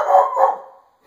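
A dog gives two quick, close barks, the second softer and trailing off, followed by a short pause of quiet.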